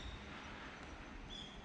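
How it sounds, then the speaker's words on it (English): A low, steady rumble of a train passing far off, broadband and continuous throughout, heard from the bamboo forest in Kyoto, with no voices. "That sound you hear in the background is the train."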